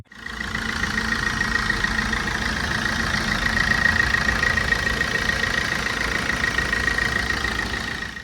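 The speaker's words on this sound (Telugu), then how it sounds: "ఇంజన్ సౌండ్ కండిషన్ కూడా ఒకసారి వినండి మీరు" A Maruti Suzuki Swift Dzire engine idles steadily and close by, a continuous low rumble with a faint whine running through it, with no talking.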